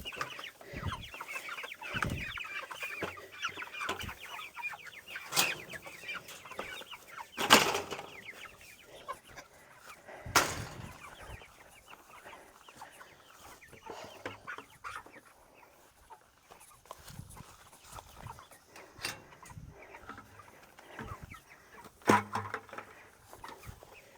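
Chickens on a farm during a morning routine cluck softly and intermittently at a distance, with occasional louder clucks and brief wing flaps standing out against a quiet background.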